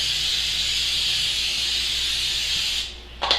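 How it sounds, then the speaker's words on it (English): Publix brand canola cooking spray hissing steadily onto a pan, one long continuous close spray lasting nearly three seconds before it cuts off, followed by a short rattle. "we're going to shake the best cooking spray ever, canola, Publix brand"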